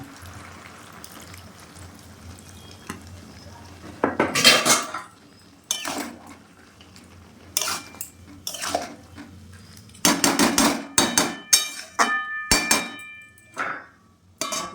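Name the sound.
stirring cabbage and prawn curry in a pot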